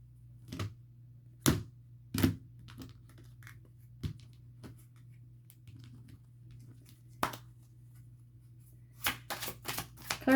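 Several short crisp riffling bursts of tarot cards being shuffled, spaced irregularly with quiet gaps, over a low steady hum, then a quicker cluster near the end.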